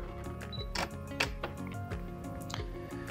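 A Canon EOS 7D Mark II fires its shutter with a few sharp, close mechanical clicks amid lighter ticking.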